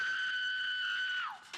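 A single sustained high-pitched scream is heard from a Buffy the Vampire Slayer episode, "Some Assembly Required", holding steady for over a second before sliding down and breaking off, followed by a short burst.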